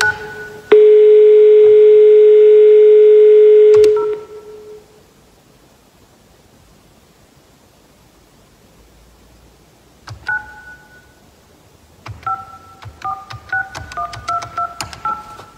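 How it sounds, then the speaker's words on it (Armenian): A landline handset gives a loud, steady dial tone for about three seconds. After a long quiet pause, a quick run of touch-tone dialing beeps follows, tapped out close and clear. "ևս մի զանգ կատարեմ"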